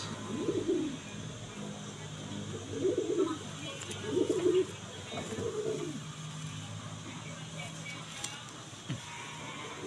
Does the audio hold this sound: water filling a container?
no